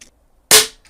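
A Daystate Air Wolf .177 electronic air rifle fires a single sharp shot, a loud close crack with a short decaying tail, alone in an otherwise quiet setting.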